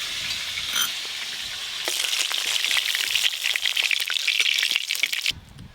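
Fish sizzling and crackling in hot oil in a pan, a steady, close, dense frying hiss that swells louder partway through and cuts off abruptly near the end, with no voices.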